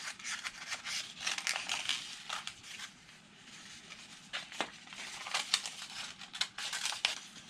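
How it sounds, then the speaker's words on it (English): Scissors snip through a recycled-material superhero mask to cut out the eye holes, giving a run of close, crisp cuts and crinkling rustles at a quiet level, with no talking. "what I'm going to do now is I'm going to cut out those eye holes"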